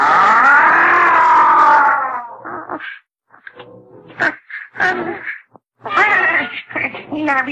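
Cartoon cat giving a long, loud, wavering caterwauling meow, then a string of shorter cries, groans and thumps broken by brief silences.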